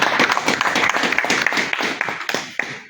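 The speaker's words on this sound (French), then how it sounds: "on va applaudir pour l'artiste Longuet" Audience at an evening event applauding the artist Longuet, a dense run of claps filling nearly three seconds, moderately near, with a possible voice mixed in underneath.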